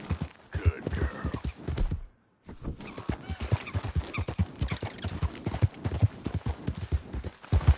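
Horse hooves clatter in a rapid, steady rhythm in Red Dead Redemption, close and prominent, with a short silent break before the galloping resumes.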